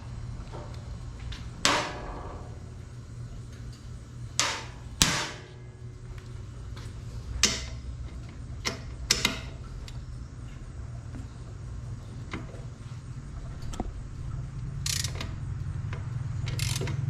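A hand ratchet cracks loose the exhaust clamp bolts on a 2021 Harley-Davidson Road Glide, giving scattered clicking bursts and metallic clunks at irregular intervals over a low steady hum, close by with no voices.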